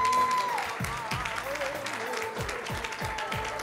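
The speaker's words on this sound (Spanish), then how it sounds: "Ese fuertísimo aplauso para ellas también." Applause from the audience at a belly dance show, a moderate patter of clapping that carries on through the span alongside a held electronic tone and some low thumps.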